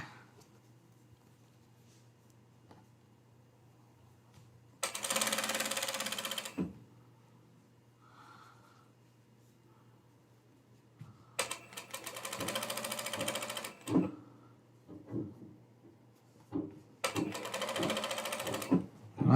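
Sewing machine stitching a seam in three loud bursts of fast, steady mechanical whirring, separated by quiet pauses filled with low hum and small clicks, heard up close.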